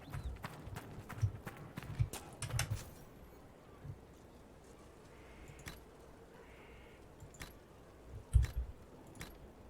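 Horse hooves clip-clop in the video game Dragon Age: Inquisition, a Ferelden horse's irregular hoofbeats with a few louder thuds and faint jangling, fairly close and without talk.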